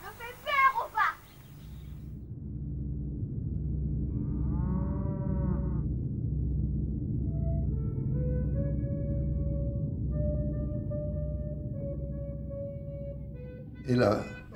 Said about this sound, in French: Les belles vaches.